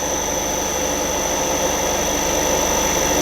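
A machine lathe spindle turning at 450 RPM gives a steady, loud mechanical drone with a high constant whine and a fast low pulsing beneath it, unchanging throughout.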